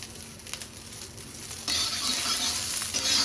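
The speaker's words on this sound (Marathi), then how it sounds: "फ्राय करून घ्यायच्या." Chilies frying in a little oil for a spicy home-style mutton masala, a steady close sizzle with stirring scrapes, growing louder and brighter partway through.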